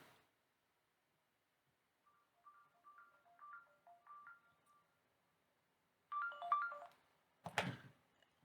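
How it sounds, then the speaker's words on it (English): A phone rings or chimes in a quiet room during a makeup session, first a soft run of repeating electronic tones, then a louder burst of ringing and a sharp final jangle. "Phone always ringing or beeping or something"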